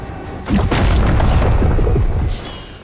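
A weighty weapon impact from the game Doom: The Dark Ages, playing as a bipedal war machine: a sudden deep boom that swells and holds for nearly two seconds before cutting off, loud and alone.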